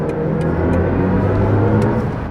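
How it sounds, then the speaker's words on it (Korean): A BMW i5 M60 electric car accelerating hard gives off a loud, continuous synthetic drive hum whose tones rise steadily, with faint road noise underneath. "조금 가속 페달을 세게 밟으면 우리가 아는 그 팍팍 튀나가는 BMW 같이 반응을 하는데"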